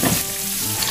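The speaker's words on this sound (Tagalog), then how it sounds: "prito lang natin ating isda habang pinapakuluan natin itong ating pangsabaw." Fish frying in a pan while a pot of broth boils nearby, a dense steady sizzle and crackle filling the whole moment, close and loud with no talking.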